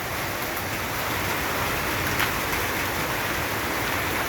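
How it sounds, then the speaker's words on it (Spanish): Steady rain falls in Tocoa in May, an even, dense hiss of drops on surfaces that holds at the same level throughout, with no voices. "pues ya se vino la lluvia, ¿verdad? Ojalá llueva algo, ojalá llueva bastantito."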